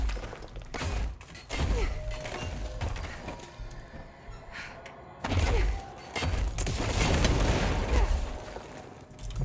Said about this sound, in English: Keep hurting myself with these explosions.